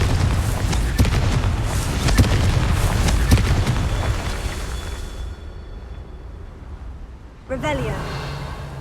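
A Confringo fire spell goes off in Hogwarts Legacy during a Merlin trial: a series of loud, booming blasts in quick succession. A voice talks over them, then a short quiet gap gives way to one more burst.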